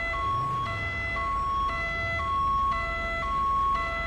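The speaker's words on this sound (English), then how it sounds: "So he's got a siren on." An emergency vehicle siren wails in a steady two-tone alternating pattern, clear and fairly close over a low engine rumble, with no one speaking.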